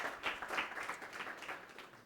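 Applause from a church congregation during a Sunday sermon, a steady patter of many hands clapping with rhythmic swells, moderately loud and continuous for the whole stretch, with no talking over it.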